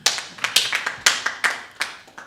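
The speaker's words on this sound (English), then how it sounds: "let's give the latter speaker a round of applause" Scattered clapping from a small group at a student general council sitting, a handful of uneven, sharp claps close by that fade off within a couple of seconds.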